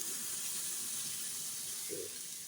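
A measured two litres of water is poured into dalia (broken wheat) in a cooking pot, making a steady, soft splashing rush that lasts throughout without a break and with no talk.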